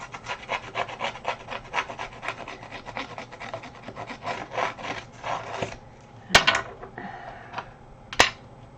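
The edges of stamped paper are distressed with a Tim Holtz tool in a steady run of close, dry scraping and rasping strokes, followed by a few sharp isolated clicks and scrapes near the end.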